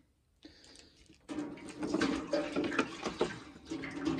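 Water runs steadily into a cold water tank for gun bluing, a continuous splashing pour that starts after a brief faint noise and keeps going close by.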